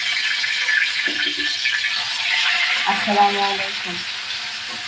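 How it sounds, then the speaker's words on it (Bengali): Mustard oil heated in a pan for frying snakehead fish gives a steady, bright hiss close by, while a person speaks briefly over it. "তেল গরম হয়ে গেছে, দিয়ে দেবো মাছ।"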